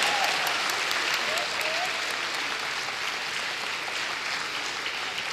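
Audience at a university anniversary celebration in Thailand applauds an award winner from the finance division, a sustained broad wash of clapping from a sizable crowd, steady throughout.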